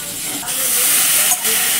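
A splash of water hits a hot pan of potol posto, bursting into a loud steady hiss of steam that carries on for a couple of seconds.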